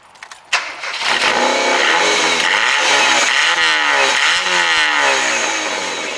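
Ford Fiesta engine with a blown exhaust: a few quiet clicks, then a sudden start and a loud, raspy, rough roar that rises and falls with revving and holds steady close up.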